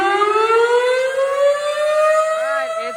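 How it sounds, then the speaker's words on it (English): Fairhope civil defense tornado siren during a scheduled test, a loud steady wailing tone rising slowly in pitch, then wavering and dipping near the end, sounding alone. "I'm going to be filming the Fairhope tornado siren test today"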